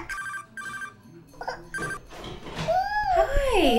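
A telephone rings with repeated electronic bell bursts, close and clear, followed by a rising, sweeping tone as other household noise builds underneath.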